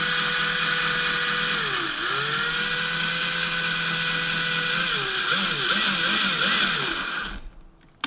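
A cordless power drill runs in reverse, backing a screw out of a guitar body while fitting new parts, with a steady whirring whine that changes pitch as the load shifts, then stops abruptly near the end.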